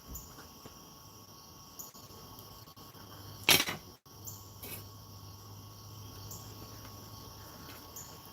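Insects chirp outdoors at night in a steady, high, continuous drone, with one brief sharp click partway through and no voices.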